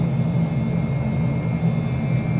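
Steady jet engine roar from an F-35 Lightning taxiing in Microsoft Flight Simulator, a continuous loud low rumble with a faint high whine, unbroken and alone throughout.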